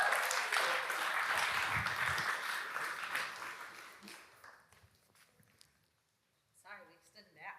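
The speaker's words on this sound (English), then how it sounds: "Can we give them a round of applause?" An audience gives a round of applause that starts full and steady, then thins and fades away over several seconds into near quiet before a voice begins speaking at the end.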